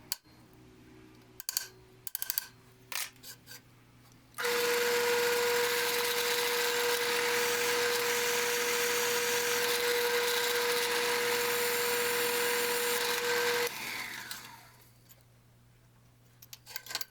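A power drill bores holes in a metal platen mount for a knife grinder, whining at a steady high pitch for about nine seconds, with scattered clicks and small metallic knocks of handling before and after.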